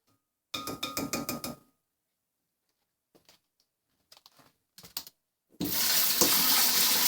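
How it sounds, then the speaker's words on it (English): Oster Pro 1200 blender jar being rinsed under a running tap: a short rattly clatter, a few faint clinks and knocks, then a sudden loud rush of water at the end. "Rinse this out real quick"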